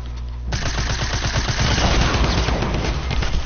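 Rapid, continuous gunfire from a video game shootout, dense overlapping bursts of automatic weapons firing loud and close for several seconds after a brief lead-in.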